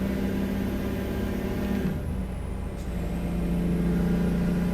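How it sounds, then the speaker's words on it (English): Heavy truck engine in American Truck Simulator, a loud steady diesel drone that dips briefly as the throttle comes off for a gear shift, with a faint engine brake chirp, then pulls again. "You can hear the engine brake chirp when you let off and when we shift."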